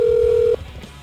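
A steady telephone dial tone from a studio soundstage phone system sounds loud and clean for about half a second, then cuts off abruptly, leaving faint room noise.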